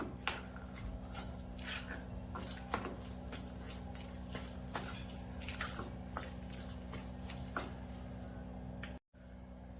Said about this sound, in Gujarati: એમાં થોડું પાણી પાછું થોડું નાખીને થોડું ઢીલું કરશું.